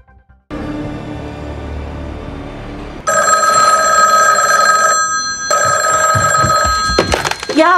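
Telephone bell ringing loudly in repeated bursts indoors, a bright electronic trill starting after a brief quiet lead-in and continuing in close, insistent rings with a short pause between them.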